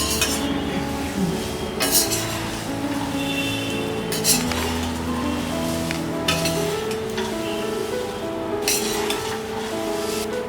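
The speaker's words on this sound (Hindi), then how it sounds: "इसमें डालेंगे ये सेव, मिक्स कर देते हैं।" Sev being mixed into diet murmura bhel in a bowl, with repeated clinking and scraping of a spoon against the dish in an uneven rhythm over a faint background hiss, no talking.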